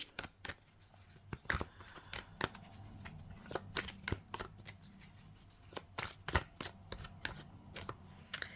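A plastic tarot deck is handled and shuffled close up, giving a busy run of crisp slaps, clicks and riffles at an uneven rhythm with no talking.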